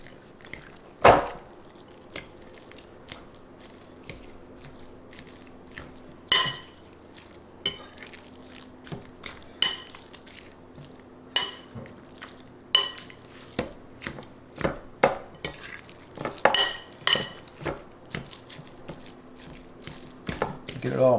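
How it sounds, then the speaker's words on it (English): Raw egg being mixed into ground meat for a Filipino-style meatloaf in a bowl, heard as scattered sticky squelches and clicks of a utensil against the bowl, close and intermittent, growing busier toward the end. "We're going to mix this up with the meat."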